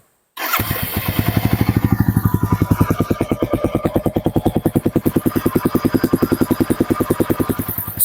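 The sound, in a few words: motorcycle engine exhaust note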